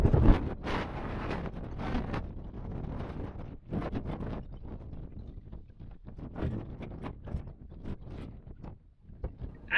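Gusty wind at a Grand Canyon overlook buffets the microphone with a steady, roaring rumble that surges and dips over about ten seconds, with no voices.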